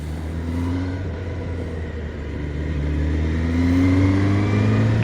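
Engine of a 2026 Kawasaki ZX-10R motorcycle droning steadily on an afternoon ride, pitch rising gradually as revs build, a continuous close rumble with no talk.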